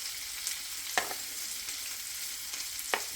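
Sausages fry in hot oil in a pan already used for bacon, giving a continuous close hiss and crackle with a few sharper pops and spits over about three seconds.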